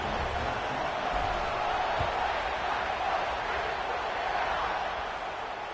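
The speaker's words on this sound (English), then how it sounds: "this crowd is buzzing after that last score" Football stadium crowd in Michigan after a score, just before the kickoff: a dense, steady buzz of many voices filling the air, broad and even with no single standout cheer.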